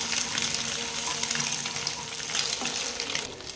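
Egg fried rice sizzling in a hot pan, a steady close hiss and crackle of frying that runs without pause and with no talk.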